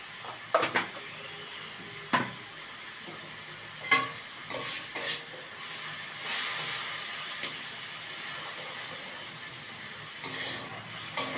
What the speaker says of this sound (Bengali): শাকটা ভাজা ভাজা হয়ে গেছে